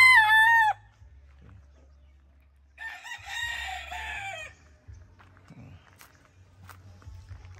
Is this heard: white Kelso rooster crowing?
yes